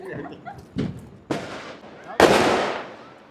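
Diwali fireworks and rockets go off in a family celebration. Four sharp bangs come one after another, each louder than the last, and the final blast has a long crackling tail.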